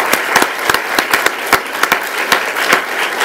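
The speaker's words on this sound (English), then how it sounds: "round of applause for the drum line." Audience clapping for the Southwest High School drum line at a school district convocation, a loud close burst of applause with sharp individual claps standing out.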